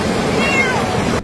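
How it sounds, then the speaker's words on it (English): Distressed cat crying frantically while stranded beside a flooded, overflowing river, a continuous loud wailing meow over a dense rushing-water roar that cuts off abruptly near the end. "a man wades through dangerous waters to rescue a stranded cat, drawn only by the sound of its frantic cries"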